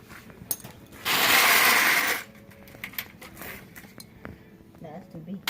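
A ratchet wrench works at bolts, with a sustained burst of clicking ratcheting up close, then scattered metallic clinks and handling noises. Quiet voices sit in the background.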